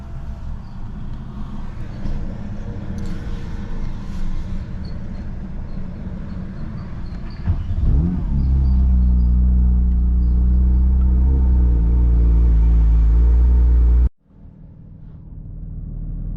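A 2023 Porsche 911 GT3 RS is started: a quiet idle-like background, then the engine catches around the eighth second and settles into a loud, deep, steady idle rumble before cutting off abruptly near the end.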